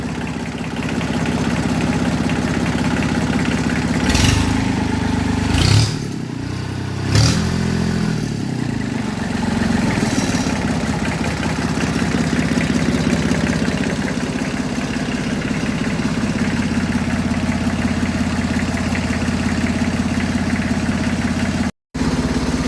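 A Kubota diesel engine in an Allis Chalmers B tractor idles steadily with a low, even chug, and a few clattering knocks near the start, running close and loud throughout.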